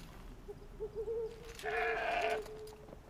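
Goat bleating in Horizon Zero Dawn: The Frozen Wilds, a short wavering animal call of about three-quarters of a second rising over quiet game ambience after a few faint soft cries.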